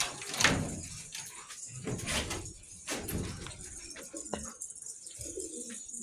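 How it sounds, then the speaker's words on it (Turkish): A pigeon coop door is opened with a few scraping, rattling knocks spread over several seconds, while pigeons coo softly nearby. "Şimdi bu kapıyı açalım."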